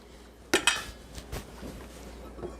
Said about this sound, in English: Gotta crack an egg in there.